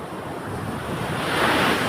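Strong high-tide waves surging on a wide river, a steady rushing wash of water with wind buffeting the microphone, growing louder and fuller toward the end.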